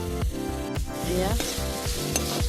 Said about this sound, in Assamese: ৰচুন, পিঁয়াজ দি কেনে ভাজি আছোঁ।